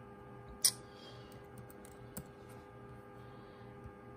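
Keys on a computer keyboard are pressed a few times, giving one sharp click and a couple of fainter taps against a quiet room hum.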